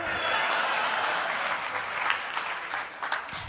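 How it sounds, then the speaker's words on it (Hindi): An audience at a humorous poetry gathering for an Agrasen Jayanti celebration in Kaithal applauds steadily, a dense wash of clapping from many hands that holds throughout with a few sharper claps near the end. "यदि आप भी ताली बजा देंगे तो अच्छा लगेगा"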